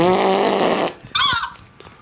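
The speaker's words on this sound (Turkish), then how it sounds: "Uy osurdum adama." A comedic fart sound effect in a FNAF video game montage makes a loud, raspy blast lasting nearly a second, followed by a shorter buzzy burst.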